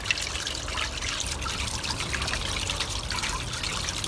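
Water slowly being mixed into a pond for fish being introduced, a soft continuous trickling and dribbling, faint and close, with no talking.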